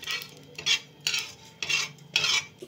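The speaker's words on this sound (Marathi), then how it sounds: "शहाजिरे आणि अर्धा चमचा साधे जिरे आता आपण भाजून घेऊ।" Cumin and shahjeera seeds dry-roasted in a pan and stirred with a utensil, giving four rhythmic scraping, rattling strokes that are close and moderately loud, with no talk.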